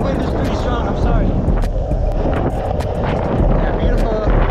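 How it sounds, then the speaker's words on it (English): Strong headwind roars and buffets against the microphone while skating along Miami Beach, loud and continuous, with faint clicking and rolling noise underneath. "the headwind is pretty strong"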